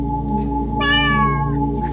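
A cat gives a single drawn-out, plaintive meow like it is begging for food, heard alone over a steady low hum.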